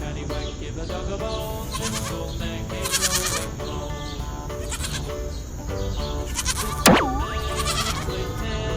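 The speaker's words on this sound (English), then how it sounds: "Goat." A goat bleats several times in a row, loud and close, against a busy background with a steady bed of noise and a sharp whistling sweep near the end.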